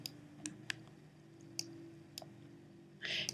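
Mouse buttons click several times at uneven intervals while a user works in Adobe Illustrator, sharp and fairly close over a low hum, with a rougher scraping burst near the end.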